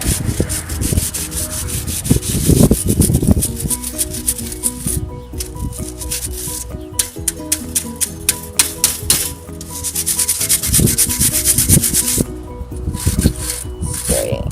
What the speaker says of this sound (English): the lighter you brush on the wire brush, the easier it is to move it